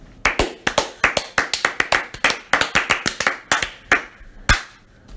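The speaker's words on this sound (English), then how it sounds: "I'm going to clap you out right now" A small group claps hands together in a fantasy football league recap, a few dozen sharp, irregular claps filling the space, loud and close, with no talking.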